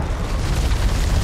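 A grenade explodes inside a cave in the horror game House of Ashes, a loud, rumbling, sustained boom filling the whole moment with deep roar.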